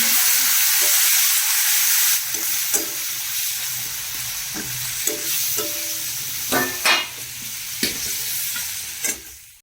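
Spices with salt, turmeric and black pepper fry in hot oil in a pan, a loud, steady sizzle broken by repeated close scrapes and clinks of a stirring spoon.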